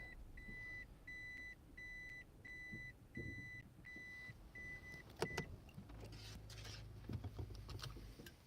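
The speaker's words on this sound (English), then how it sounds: "That beeping sound." A high electronic beep sounds about eight times at an even pace, followed by rustling and clunking movement nearby.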